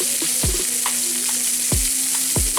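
Onions sizzle loudly as they fry in a pan for a shrimp stir fry, a dense constant hiss broken by a few low thuds at irregular intervals, no talking.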